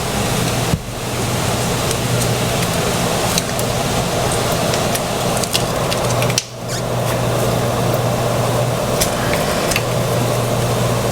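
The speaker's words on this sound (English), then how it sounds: "This is coming to a nice boil, one that I can't stir down" Raspberry wine jelly mixture boils hard in a pot on the stove, a steady dense bubbling roar that fills the room, close and continuous, broken by a couple of brief clatters.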